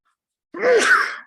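A single sharp sneeze bursts out after a brief silence, loud and close, with a breathy rising onset and trailing off within about a second.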